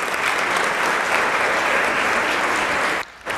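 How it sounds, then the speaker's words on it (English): An audience at a women business owners' convention applauds, a thick, sustained roar of many hands clapping that holds steady and cuts off abruptly near the end. "Give her a round of applause again, please"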